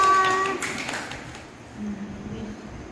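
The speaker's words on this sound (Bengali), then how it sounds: "তালিয়া।" Applause from an audience at a Rabindra Jayanti cultural programme, a brief burst of clapping that quickly thins and fades out within about a second, leaving quiet room tone.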